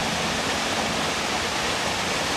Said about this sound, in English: This is such a forceful waterfall here.